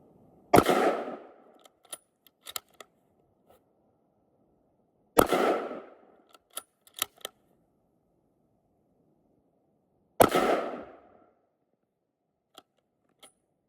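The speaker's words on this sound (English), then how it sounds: "We'll go ahead and take a couple shots." Three loud, sharp rifle shots from a Winchester Model 70 in .30-06, evenly spaced about five seconds apart outdoors, each followed by a short decaying echo and the small metallic clicks of the bolt being worked.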